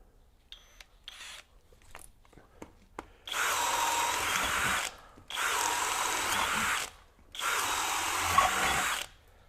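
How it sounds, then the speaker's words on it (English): Kobalt KHD124 24V brushless hammer drill boring with a 1-inch self-feeding auger bit, three sustained loud whirring bursts separated by short pauses, preceded by a few faint taps and clicks, close up with no speech. "let's roll on up to a full 1 inch self-driving auger bit."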